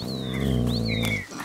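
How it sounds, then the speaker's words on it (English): Wild boar in the video game A Plague Tale: Innocence: a brief snorting, grunting call over low droning ambience, moderately close, with a high whistling tone sliding above it. "Oh gosh, a wild boar!"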